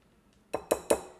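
Brownie batter being mixed in a bowl from scratch, heard as three sharp clinks of a utensil against the bowl in quick succession after a quiet start, close and fairly loud.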